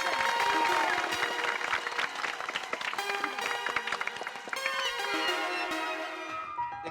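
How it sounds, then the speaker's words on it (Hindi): Applause from a crowd in a sitcom scene, with dense clapping running throughout under a bright, shimmering music-like layer that fades near the end. "जोरदार तालियां हो जाए"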